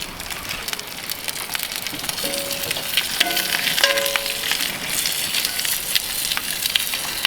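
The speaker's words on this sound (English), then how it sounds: "Now we'll sear our fat caps for about 60 seconds, and then we'll just go into the regular sear." Steak fat caps sear in an oiled pan, giving a steady, close, dense sizzle throughout with a few brief tonal clinks of metal partway through, and no talking.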